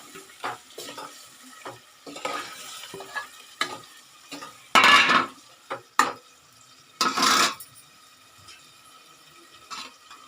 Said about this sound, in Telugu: ముక్కలు మొత్తం వేసుకొని కలుపుకుంటూ ముక్కలు వేసుకోవాలి